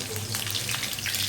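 Chicken pieces fry in hot oil in a home kitchen, giving a dense, continuous sizzle with small crackling pops throughout the short stretch and no talking.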